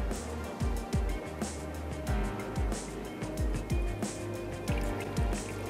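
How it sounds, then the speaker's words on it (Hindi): Water draining from a pot of soaked rice in a home kitchen, with intermittent close splashes and drips repeating in an uneven rhythm and no voices. "उसका जो पानी है वो निकाल देते हैं।"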